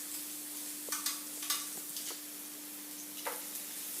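Carrot pieces stirred into a pan of shrimp teriyaki, giving a few soft scraping, tapping stir strokes over a faint steady sizzle, quiet and close with no talking.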